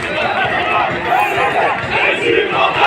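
Football fans gather outside before an Altay match in Alsancak, chanting and clapping as a dense, continuous crowd roar with voices shouting together, loud and close throughout.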